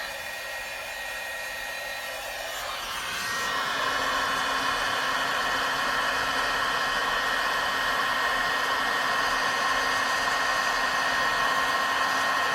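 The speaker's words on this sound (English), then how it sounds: "now I'm going to grab my heat tool and we will get this to melt" A heat tool melting embossing powder for crafting, switching on after a quiet moment and then blowing as a steady, close, loud whirring hiss that holds without letup.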